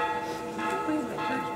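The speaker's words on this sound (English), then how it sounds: "Salieron las campanas y la pólvora." Church bells ringing at an outdoor wedding in La Manzanilla, Mexico, the tolling steady and moderately distant beneath crowd murmur and some speech.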